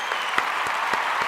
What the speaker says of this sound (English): We give a round of applause, of course